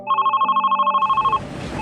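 A classic telephone bell rings in fast trilling bursts for over a second, loud and alone, then cuts off into a muffled rumbling background.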